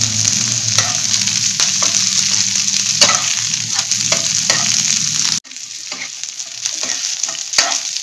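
Onion, red chili and garlic cloves fry in oil in a pan, a bright continuous sizzle with scattered pops and the scrape of stirring, close up, which quiets sharply partway through before building again.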